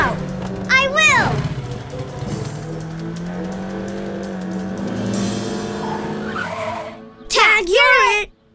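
Cartoon toy cars racing and skidding, engines humming steadily with sharp tire squeals at the start and a louder squealing skid near the end, while a voice talks over the chase.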